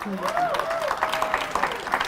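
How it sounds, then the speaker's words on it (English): Church audience applause for a woman surviving stage four colon cancer, a soft wash of clapping under a voice that keeps speaking and rises in pitch. "Can we give her a round of applause?"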